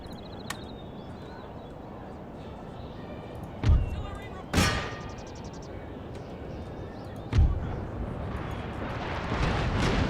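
Distant mortar battery fire rumbles across a battlefield in Empire: Total War, with three or four deep thuds under a continuous noisy battle ambience.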